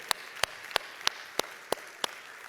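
In a church service, sharp hand claps ring out in a steady rhythm, seven evenly spaced beats against a quiet room.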